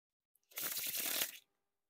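Bicycle playing cards from the color series Pumpkin edition being faro shuffled, one quick close riffle of about a second of crisp, dense card flutter against silence.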